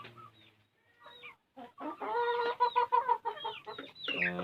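Free-range village chickens cluck and squawk close by, short bursts from a few birds in quick succession, with nobody talking.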